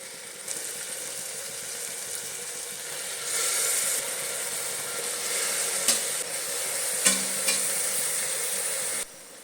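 Lentils being stirred into a hot pan for dal fry, a continuous sizzle and hiss that swells midway, with a few sharp scraping clicks of the spoon, close by and without talk.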